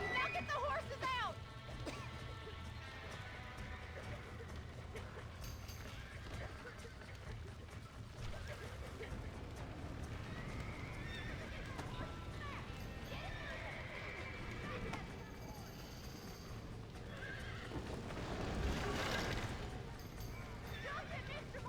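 In the video game Red Dead Redemption, horses gallop and neigh amid a chaotic game soundscape, with hoofbeats and whinnies under shouting voices and a crash near the end.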